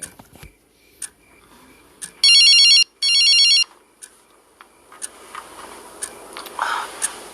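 A mobile phone ringtone plays in two loud, steady bursts of electronic tones, each lasting under a second, inside a quiet bedroom with a few faint ticks and rustles before and after.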